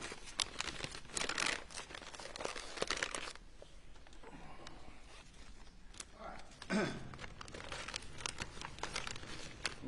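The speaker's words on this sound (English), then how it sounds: "put those back in the plastic bag for me." A plastic evidence bag is handled in a courtroom, with crinkling, rustling and zipper-like scraping in bursts, quiet and close, easing off briefly before picking up again.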